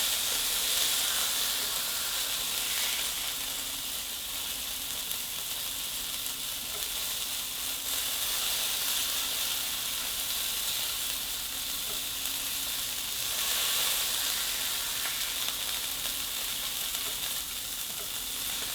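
A smash burger patty pressed flat with a spoon sizzles in a pan for Loco Moco, a loud, continuous hissing fry that stays steady throughout.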